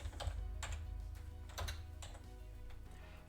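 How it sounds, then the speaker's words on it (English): Fingers type a name on a computer keyboard in business software, quiet close keystrokes tapping in an uneven rhythm over a low hum, with no talk. "I'm going to type in her name."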